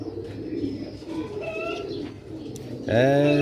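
Ferozpuri pigeons coo nearby in soft, repeated throaty calls, rising to a louder, fuller coo at the end, with faint voices and bird chirps in the background.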